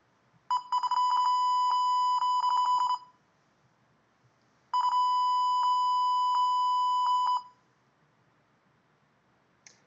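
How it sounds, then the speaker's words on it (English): Two long bursts of rapid electronic beeping from a sensor or computer during a seated trunk rotation test, each lasting a few seconds with a pause between, clear and alone in a quiet room. "the sensor will beep, or the computer will beep, if she achieves that goal"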